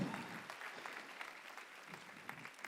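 Scattered applause from an audience at a charity fundraising event for domestic violence victims, fairly faint and thin, with individual claps standing out over the room.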